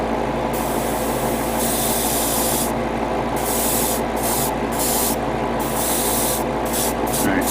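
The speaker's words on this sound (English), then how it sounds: "now my airbrush is acting funny" Airbrush spraying paint on a Bandai HG 1/60 ARX-7 Arbalest model kit, a steady close hiss broken by repeated short pauses and bursts as the trigger is released and pressed again.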